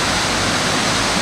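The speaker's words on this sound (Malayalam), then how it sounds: "ചെരിഞ്ഞും വളഞ്ഞും ഒഴുകുന്ന സുന്ദരമായ ചീയപ്പാറ വെള്ളച്ചാട്ടം" Cheeyappara waterfall in Idukki, Kerala roars in a constant, loud rush of falling water, a dense unbroken hiss heard up close with no voices.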